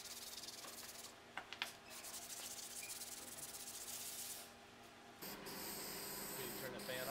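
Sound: hand sanding metal with sanding sponge

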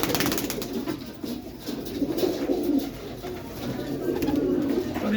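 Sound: pigeons cooing

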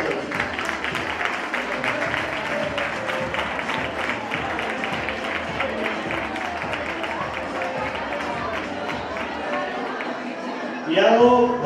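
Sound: audience applause at children's carnival contest

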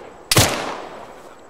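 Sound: gunshots in a video game

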